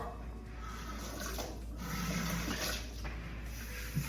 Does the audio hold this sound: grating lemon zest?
no